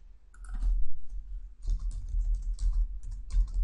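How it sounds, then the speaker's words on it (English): Rapid typing on a computer keyboard while entering values into Yokogawa Exapilot control-system software. The key clicks come close and crisp in uneven bursts, with a short pause partway through and no voices. "you just need to type in whatever's appropriate for your control system"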